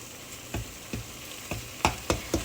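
Beef sizzling in a hot pan as it cooks on both sides, with a steady fry hiss broken by a series of spaced scraping stirs or flips, close and fairly loud, no voices.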